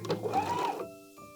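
A sewing machine backstitches the seam of a DIY infinity scarf, giving a short close burst of fast mechanical whirring that stops abruptly, leaving a faint hum.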